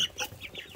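Soft, brief clucking and chirping from chickens nearby, a few quick calls in a short burst.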